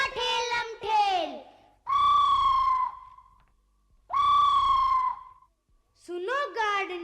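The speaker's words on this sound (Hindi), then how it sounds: "सुनो गार्ड ने दे दी सीटी" A train guard's whistle from a children's train rhyme: four long, bright, tonal blasts with sliding pitch, separated by short silences and heard clearly on its own.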